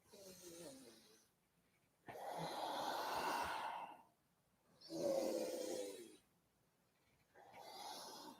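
Slow, deep breathing during a Kundalini yoga practice: three long, airy inhale and exhale swells of about two seconds each, separated by short pauses. Close and soft, with no talking.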